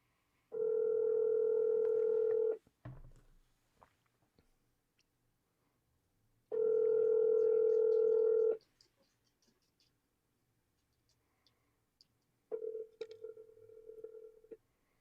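A telephone call rings out with two long, loud ringback tones about four seconds apart, then a shorter, quieter tone with light clicks in a silent room.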